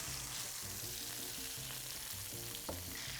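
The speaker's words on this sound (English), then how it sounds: "We're just gonna let that sizzle." Pork chops sizzle steadily in a hot pan, a constant crackling hiss with a faint low hum underneath and one brief sharp pop near the end.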